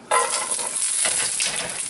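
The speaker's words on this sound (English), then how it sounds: "But that's what we want to hear, is the sizzle." Carrots hit hot oil with a sudden loud sizzle that keeps crackling and hissing, rising again as they are stirred.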